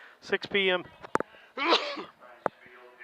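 A sudden, sharp sneeze bursts out between stretches of someone talking at a county fair harness racing event, loud and close.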